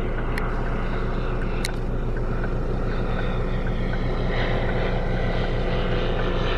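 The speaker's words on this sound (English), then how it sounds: "here's one taking off" A small propeller plane takes off somewhere in France, its steady droning engine a constant dense roar heard from nearby with no talk over it.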